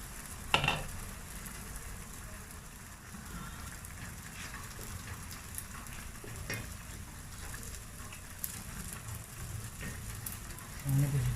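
Chopped pastırma cooks in a pan for Turkish bean stew, giving a soft, continuous sizzle and crackle throughout, moderately close, with occasional small clicks of stirring.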